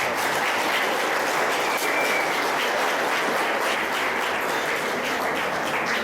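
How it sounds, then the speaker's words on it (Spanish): Audience at a forum gives a loud, sustained round of applause for a professor, a thick, even wall of clapping from many hands throughout. "pido un fuerte aplauso"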